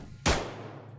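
A single sharp gunshot from a weapon in the video game SCP: Nine-Tailed Fox, one loud burst that fades quickly under a low steady hum.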